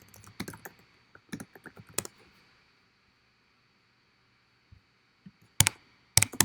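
Someone types on a computer keyboard in short, uneven bursts of clicks separated by quiet pauses, faint and close by, with no talking.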